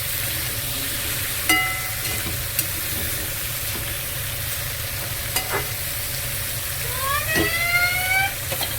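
Vegetables seasoned with chili powder cook in a pan with a steady, loud sizzle and hiss. A few clanks of the stirring utensil break through, and a brief squeak rises near the end.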